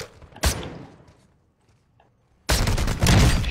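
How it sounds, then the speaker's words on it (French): Gunfire in an online shooter game: a sharp single shot, then a quiet gap, followed by a loud sustained volley of rapid shots at close range. "Qui tire là ? Ça a tiré à gauche, hein."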